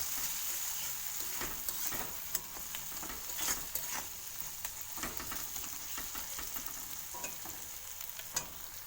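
Potatoes and egg sautéing with chili powder in a pan, a quiet sizzle with light irregular clicks and scrapes of stirring, close but faint, with no one speaking.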